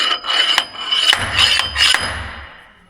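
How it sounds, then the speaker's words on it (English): A slide hammer pulls on a header part, giving four sharp metallic knocks in an uneven rhythm with scraping between them, close and fairly loud. "Little slide hammer."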